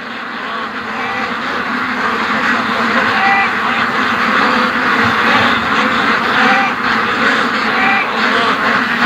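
A flock of ducks quacks continuously and fairly loudly outdoors, a dense overlapping chorus with occasional honks, while Canada geese fly over.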